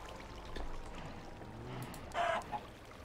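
A Minecraft chicken near a mob farm lets out a brief cluck or two late on, over a soft, steady game background.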